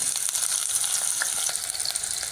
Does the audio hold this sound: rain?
no